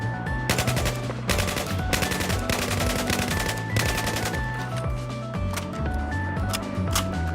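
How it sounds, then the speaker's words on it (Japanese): Short repeated bursts of automatic gunfire from a weapon tap-fired in the shooter game Battlefield, loud and close, over a steady bed of game music. "今、中距離ら辺を想定すると5発ずつ撃つのが適当であることが分かったわよね。"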